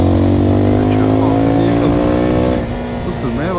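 A Zontes Phantom S 250 single-cylinder motorcycle with stock exhaust idles and revs loudly nearby, its deep thumping exhaust note rising and falling.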